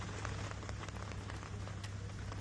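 Heavy rain in India that has been pouring for eight hours, a steady, dense hiss of drops hitting surfaces with a low rumble underneath and no pauses.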